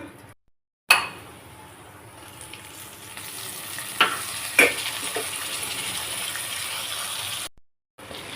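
Tomato pieces and masala fry in a pan for mutton keema, with a steady close sizzle and a few sharp clinks of a spoon stirring against the pan.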